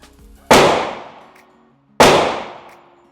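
Two sharp, loud pistol shots from a Springfield Armory Prodigy fired at a range, spaced about a second and a half apart, each with a ringing decay and no talking.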